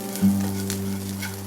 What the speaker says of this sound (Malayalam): ഇനി കുറച്ചുകൂടെ കിടന്ന് ഒന്ന് ബ്രൗൺ ആവണം. പാവയ്ക്ക അങ്ങനെ മൂത്ത് വന്നിട്ടുണ്ട്.